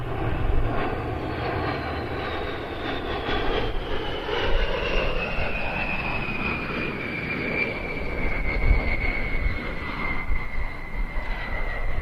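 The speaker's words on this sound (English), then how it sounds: "the first participation of a B-52 in a British flying display since 2017." A B-52 bomber flies past at the Bournemouth Air Festival, a loud continuous jet roar with a slowly falling whine that holds steady for the whole stretch.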